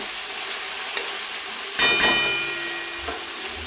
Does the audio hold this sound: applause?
no